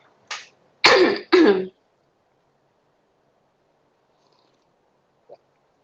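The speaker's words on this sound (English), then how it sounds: "Okay, excuse me, I'm just gonna cough." A few close, harsh coughs, one short then two loud bursts, followed by near silence and a faint click.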